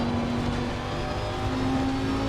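A race car engine in the video game Assetto Corsa Competizione screams on a downshift at a steady, high pitch, loud and close, holding a sustained droning note with no voices.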